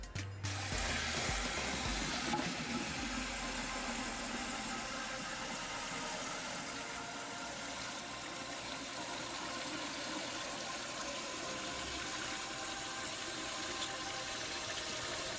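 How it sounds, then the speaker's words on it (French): A toilet cistern refills with water after its flush mechanism is replaced, giving a steady rushing hiss with a low rumble that runs unbroken and fairly loud for the whole stretch. "Maintenant, il ne reste plus qu'à remplir la cuve d'eau."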